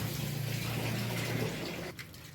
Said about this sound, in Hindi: पानी बहुत इधर तेज आता है, संभाला नहीं जाता। ये देखो इतना तेज पानी है ना माशाल्लाह